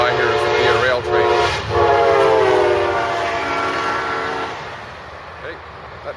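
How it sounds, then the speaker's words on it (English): A Via Rail passenger train passes near Lakeshore by Windsor, Ontario: a loud, close rumble with a sustained horn blast that fades as the train moves away. "Just going by here is the Via Rail train."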